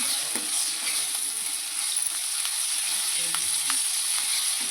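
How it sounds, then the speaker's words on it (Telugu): Ginger paste stirred into onions frying in a pan, a steady bright sizzle with scattered spoon scrapes and light clicks, close and continuous without talk. "అల్లం పేస్టు ఉల్లిపాయలతో మిక్సీ కావడానికి బాగా కలుపుకున్నాను."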